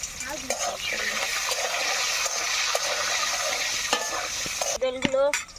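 Food frying in oil in a pan with salt added, a continuous close sizzle with scraping stirs, ending in a brief louder clatter and gurgle.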